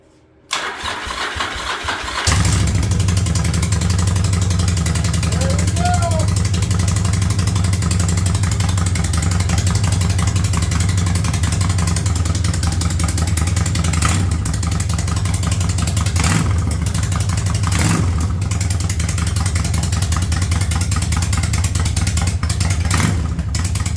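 A barn-find Yamaha Virago motorcycle with a single-carb conversion fires up on choke after a short crank, then settles into a loud, steady, close-up rumble that holds for over twenty seconds with no talking.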